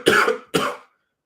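Two close, loud coughs in quick succession from one person, each a short harsh burst, followed by silence.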